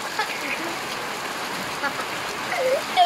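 Steady, dense heavy June rain hisses throughout, a continuous wash of falling water with a few faint voices of children and clatters in the background.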